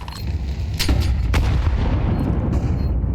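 Booming fire and a burning incendiary grenade in Counter-Strike 2 at the IEM Dallas 2025 esports event, a few sharp cracks over a constant low rumble, fairly loud and close.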